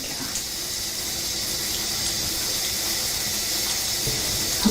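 A tap runs at low pressure into a cup during a caregiving wash, giving a steady, close, continuous rush of water with no break.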